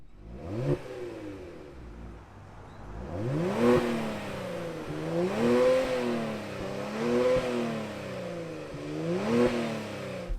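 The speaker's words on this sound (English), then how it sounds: "it's time to rev it and take this bad boy for a spin" A 2020 Kia Stinger GTS AWD, limited edition, revving its engine: a brief blip, then several rising and falling revs that swell and drop in a wavy pattern, loud and close, with no talking.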